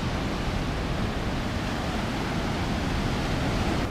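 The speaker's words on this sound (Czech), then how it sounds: "Ale ty vlny tady teda" Broad, steady surf roar from ocean waves breaking on a black sand beach in Hawaii, a continuous wash of noise with no distinct individual crashes and no voices.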